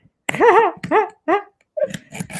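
Winston the dog gives a few close, loud barks and yowls in quick succession, with short pauses between them, the last ones rougher and broken up.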